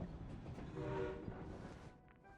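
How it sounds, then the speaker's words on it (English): A train pulls into a public station in Genshin Impact, a soft, steady rumble of rolling carriages with a faint horn-like tone in the middle, fading toward the end with no voices. "I just pulled into a public train station."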